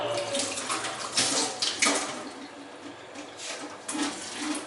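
One cup of water poured in while making black chickpea (kala chana) curry, heading for the grinder: a steady splashing pour with a few louder gushes, close by, and no talking.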